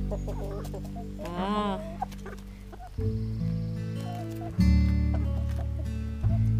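Nearby chickens cluck and squawk in a busy, overlapping chorus, with a brief exclamation from a person among them.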